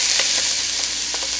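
Chopped red and green peppers with a whole sweet onion sautéing in olive oil, a steady bright sizzle with a few light stirring taps, close and even.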